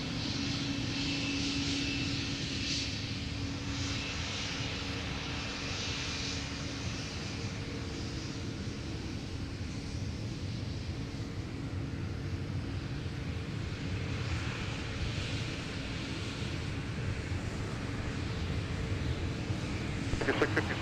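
Turboprop airliner engines, a Dash 8-300, drone steadily at the Minneapolis–Saint Paul airport, a continuous broad roar with a low engine hum that stays fairly even throughout, moderately distant and with no clear voices over it.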